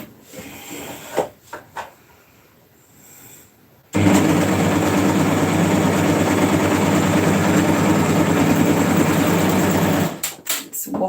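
A Jaguar 2015 overlocker sews a shoulder seam, running in one fast, steady, loud mechanical burst of about six seconds. It is bracketed by quieter handling clicks and rustles of fabric before and after.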